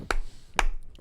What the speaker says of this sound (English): I'll give it a clap